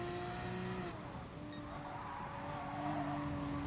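A race car spins out in Gran Turismo Sport at the Red Bull Ring, its tires squealing in a sustained skid over a steady, droning engine tone, with no talking.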